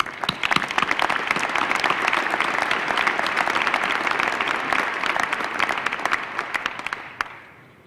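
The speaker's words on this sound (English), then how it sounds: "Please join me in a big applause." A room of Urban Land Institute attendees breaks into big, dense applause that holds steady for several seconds, then thins out and fades near the end.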